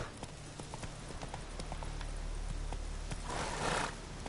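Horse hooves clip-clop steadily in a PS4 video game, a soft, even rhythm of repeated footfalls that runs throughout, with a brief swell of noise near the end.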